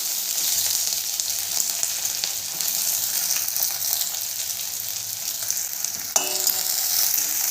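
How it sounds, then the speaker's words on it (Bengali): Chopped onions drop into hot oil left from frying dried red chillies while an aloo paratha filling is being cooked. They make a steady, close sizzle throughout, with one sharp clatter near the end. "ওই তেলেই দিয়ে দেবো কেটে রাখা পেঁয়াজটা।"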